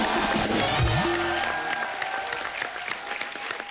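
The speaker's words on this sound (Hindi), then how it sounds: "तालियां।" Studio audience applauding a celebrity couple's entrance on a Hindi comedy talk show, a steady dense wash of clapping with a brief musical sting near the start, holding at a moderate level throughout.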